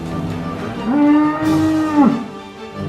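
A single cow moos loudly and close by, one long drawn-out low call that swells and then tails off, with nothing else around it.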